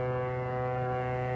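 Ship horn from an animated show, a deep, steady, loud blast held throughout, alone with no talk.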